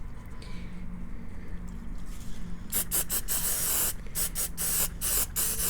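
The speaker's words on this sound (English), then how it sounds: "I'll go ahead and spray this one time" Several short hissing bursts of Apple Garde protector spray on a Louis Vuitton leather bag, close by, in quick succession with brief pauses between them, over a low steady background hum.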